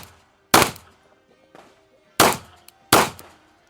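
Three sharp, loud gunshots from an unsuppressed BOE Incolite 9S firearm, with a fainter pop between the first two. Each blast cracks hard and rings out briefly.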